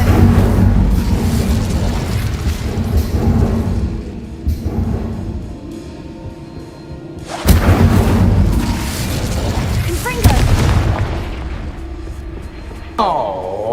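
The Incendio fire spell in Hogwarts Legacy erupts in loud booming whooshes, with several heavy blasts spread across a noisy battle scene at night and a character's voice speaking in between.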